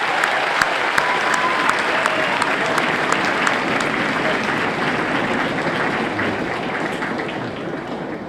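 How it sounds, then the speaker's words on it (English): A large crowd applauds at an Army basic training graduation at Fort Jackson, a loud, sustained roar of clapping that fills the whole stretch evenly without letting up. "Round of applause."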